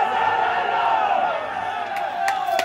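A home crowd at a youth football match cheering and shouting for their players, a loud sustained roar of voices with whoops, and a few sharp claps near the end.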